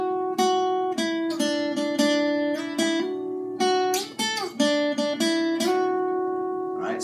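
An electric guitar picks the intro melody of a song on one string, notes sliding up and down with a steady rhythm and some bright, ringing attacks.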